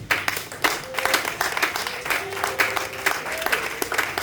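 A church congregation claps hard and cheers in praise of Jesus, with dense, rhythmic applause running throughout and voices rising through it.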